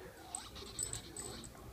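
A surprise toy holding toy puppies gives off faint, brief whimpers and yips from inside, while people talk softly close by.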